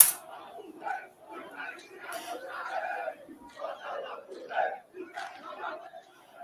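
CSA supporters arriving alongside the Inferno Coral fans at the Aflitos stadium make a busy crowd roar of chanting and shouting voices, moderately distant, rising and falling without pause.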